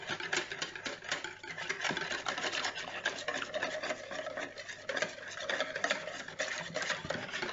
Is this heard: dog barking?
no